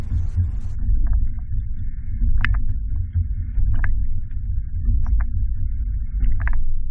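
A 2019 Chevrolet carrying a Yakima OnRamp e-bike platform rack rolls over alternating speed bumps, a loud steady low rumble broken by repeated sharp metallic clanks and rattles from the rack.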